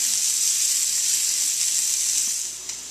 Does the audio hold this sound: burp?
no